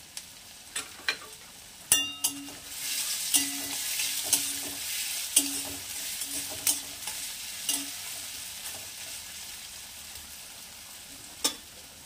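Lentils fry with chopped ginger in a pan, a continuous sizzle broken by repeated sharp clanks and scrapes of the stirring spoon at an uneven pace.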